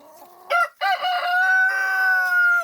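A rooster crows loudly nearby among chickens, a long drawn-out cock-a-doodle-doo after a couple of short clucking calls.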